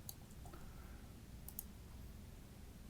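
Quick mouse clicks at a computer while selecting faces in Maya, a few faint, sharp ticks spaced apart over a quiet room hum.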